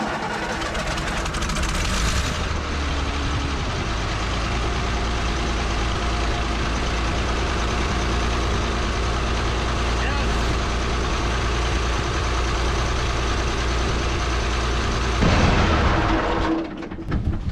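An excavator's diesel engine cranks and fires at half throttle, then settles into a steady, loud, rumbling idle that runs for many seconds before cutting off near the end.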